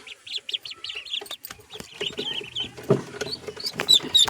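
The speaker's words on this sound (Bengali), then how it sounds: "আমার হাঁসের বাচ্চা" Ducklings kept in a bamboo-mat enclosure give high, rapid peeping calls in short bursts, close and fairly loud, with some rustling and an occasional clunk in the background.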